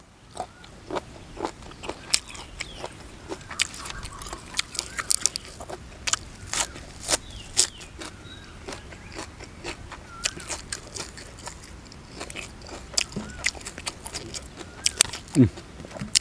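Crunchy baby octopus being chewed close up, with steady rapid crisp bites and crackles running throughout, alone with no talking.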